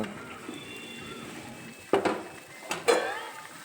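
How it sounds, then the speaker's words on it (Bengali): A pot of fish curry with cauliflower and potato is stirred after water is added, a soft simmering bed broken by a few close metallic scrapes and clinks of a spoon against the pot. "জল দেওয়ার পরে একটু নেড়ে চেড়ে নেব"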